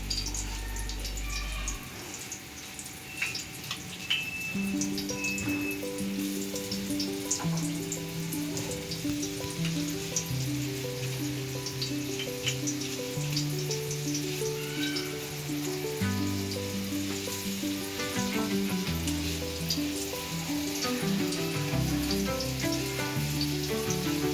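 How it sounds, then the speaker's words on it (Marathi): Kingfish (surmai) fries in a pan with a constant crackling sizzle and scattered pops. A melodic backing tune runs throughout and partly masks it. "व्यवस्थित फ्राय झाले पाहिजे. फ्राय करायला ठेवलेत आपण."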